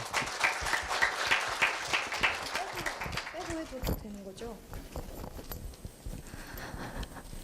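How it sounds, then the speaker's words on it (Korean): A hall audience at a 2017 middle-school speaking festival gives a burst of applause for a student speaker. The clapping is brisk and fairly close at first, then thins out as a voice begins talking. "힘찬 박수 부탁드립니다"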